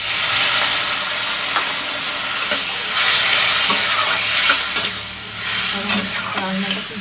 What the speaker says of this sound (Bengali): তাও একটু জল দেবো।